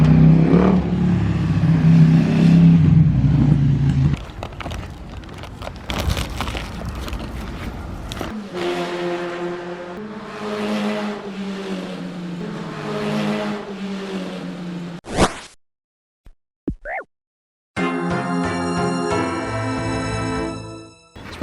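A car engine in a video game revving up and down, loud and near, through repeated synthetic acceleration sweeps. Game sound effects and chimes follow after a few brief gaps, with no speech.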